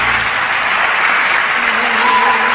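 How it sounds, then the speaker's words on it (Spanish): A theatre audience at a national copla singing contest in Córdoba applauds a contestant from Barcelona. The clapping is loud, dense and continuous, with a faint voice surfacing briefly near the end. "Este aplauso."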